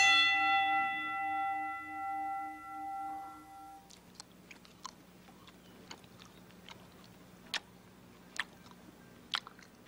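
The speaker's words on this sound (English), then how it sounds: "when you hear the bell, just come out fighting." A bell rings out at the start of a mock fight in a children's TV sketch, a sustained clanging tone with long ringing harmonics for a few seconds before fading, followed by faint scattered ticks and clicks.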